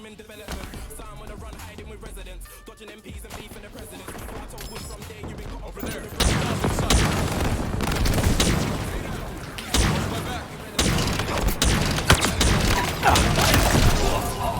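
Gunfire from a gun in the video game Halo Infinite: a quieter stretch of game noise gives way to dense, rapid shots and crashing impacts, loud and sustained to the end.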